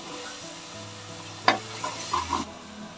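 Masala frying in oil for mutton kushka is stirred in a pan, with a soft steady sizzle and a few sharper scrapes and clinks of the spoon near the end.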